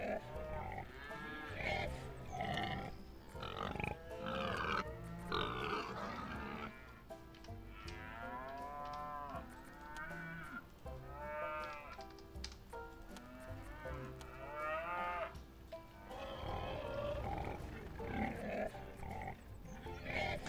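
Cows mooing and pigs grunting in the farm video game Farm Manager 2018, a busy mix of animal calls repeating over about twenty seconds, fairly loud and layered with game sounds.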